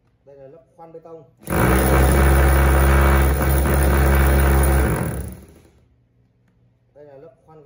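Three-function 220V concrete hammer drill set to concrete drilling mode: a loud, steady motor roar for about three and a half seconds, then spin-down, with short speech before and after.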